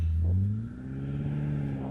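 A new BMW M5 launches repeatedly. Its engine note rises in pitch in a short, strong burst heard up close, with no talking.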